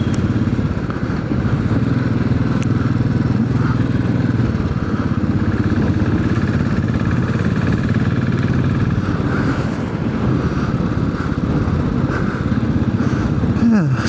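A Royal Enfield Classic 500 motorcycle engine thrums steadily and loudly while riding, a continuous low throb with mechanical clatter that holds without a break.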